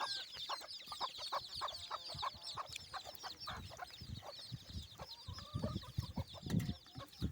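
Backyard chickens cluck steadily and close by, a dense run of short clucks from the flock, with chirping birds in the morning background and no talking.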